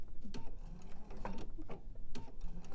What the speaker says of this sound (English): you're going to back stitch a couple of stitches